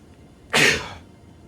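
A single sharp sneeze bursts out close and loud, fading quickly into quiet room tone.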